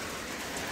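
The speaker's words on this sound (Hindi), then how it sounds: "बारिश पड़नी शुरू हो चुकी है और मोटी मोटी बारिश गिर रही है" Heavy rain pours down outdoors in a steady, dense hiss that stays fairly soft and even for the whole brief moment, with no voices.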